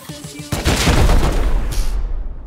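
A sudden heavy explosion bursts in and keeps rumbling with dense overlapping gunfire and blasts as rockets hit during a raid in the video game Rust, loud and close, trailing off toward the end.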